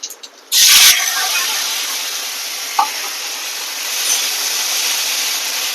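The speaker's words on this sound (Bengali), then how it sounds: "বন্ধুরা ফোড়নের মধ্যে দেবো শুধু জিরে।" Cumin seeds and ground spice paste hit hot oil for a Bengali egg curry with sweet hog plums, bursting into a sudden loud sizzle that settles into a steady, close frying hiss.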